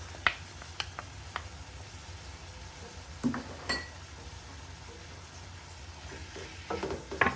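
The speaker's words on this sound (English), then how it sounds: "mix everything together." Pasta being mixed with ginger and onions in a pan: faint soft sizzling underneath scattered light clinks and scrapes of a utensil against the pan, sparse and close, with a small cluster of taps near the end.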